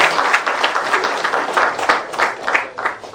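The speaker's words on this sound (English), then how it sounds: "think our claps could be louder." Audience at an inaugural function for a model career centre in Goa clapping steadily, a full room of hands with a rhythmic, loud, sustained patter.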